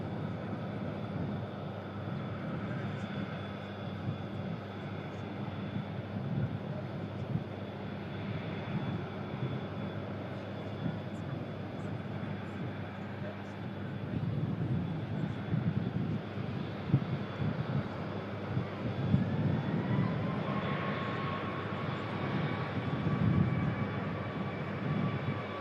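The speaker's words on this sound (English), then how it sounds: "75 is going to be the next aircraft to touch down" A Boeing 757 airliner touches down at an airport, a sustained engine rumble swelling toward the end of a long, steady stretch with a faint rising whine.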